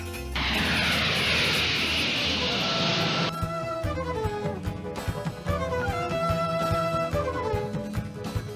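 A cartoon airport scene opens with a loud, hissing airplane engine rush lasting a few seconds, followed by light background music.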